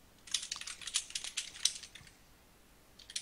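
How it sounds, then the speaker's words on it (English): Quick, uneven keyboard typing from a nearby stenographer during a tabletop game session, clattering in bursts for about two seconds, pausing, then resuming briefly, fairly quiet with no talk. "Man, the typing is making me nervous."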